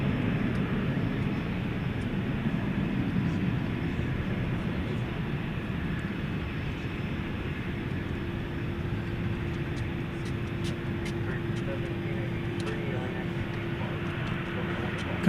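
An American Airlines Boeing 737 MAX 8 departs at night at DFW with a steady distant engine roar and a faint tonal whine, under intermittent talk.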